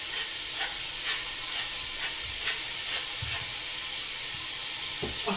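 Steady hiss of leeks and onions sizzling in a frying pan, bright and close, with occasional soft stirring scrapes and clicks.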